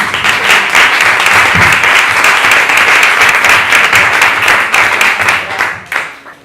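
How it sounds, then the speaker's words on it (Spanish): Loud, dense applause from an audience at an interview event, steady clapping for several seconds before tapering off at the end. "nos animamos y le damos ya un aplauso para calentarle un poquito"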